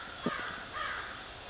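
Crow cawing in winter woods among shagbark hickory trees, a faint, distant call or two under steady broadband outdoor noise.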